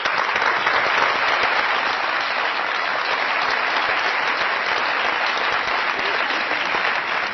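A studio audience applauds a veteran actress on a Pakistani comedy talk show, steady dense clapping that stays loud and even throughout.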